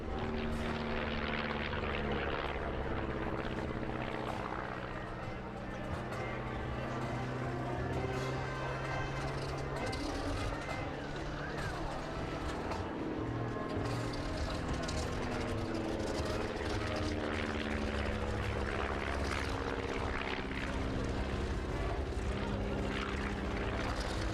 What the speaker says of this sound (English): You see the whole aircraft descending down, coming out in a half cube and rolling 180 degrees.